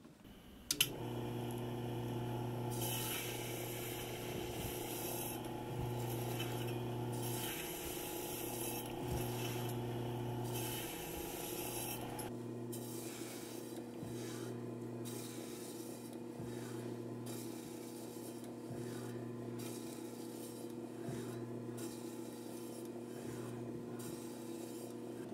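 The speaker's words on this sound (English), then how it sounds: "I'm going to put it on here and we will start slicing." A meat slicer cuts beef for Dr Pepper jerky, a steady mechanical hum with rhythmic rasping passes as each slice comes off, carrying on at an even level for a long stretch with no talking.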